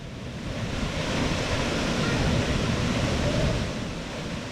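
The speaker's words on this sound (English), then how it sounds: "And then Looking Glass Falls." Steady rushing roar of Looking Glass Falls, a waterfall in DuPont State Forest near Brevard, North Carolina, heard close and loud as a continuous broadband wash with no voices.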